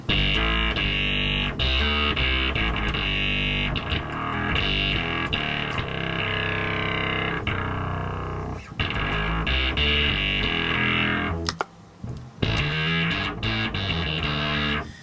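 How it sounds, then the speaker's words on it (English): Electric guitar through a Crowther Prunes and Custard distortion pedal plays loud, dense chords and riffs with a fuzzy, saturated tone, with a brief drop-out near the end. "It's an oddball of a distortion pedal"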